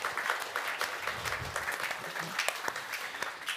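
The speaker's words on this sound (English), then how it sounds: "round of applause for being here" Audience at a Sydney Ideas public talk on Pacific influence gives a brief, moderate round of applause, steady scattered clapping throughout with some voices mixed in.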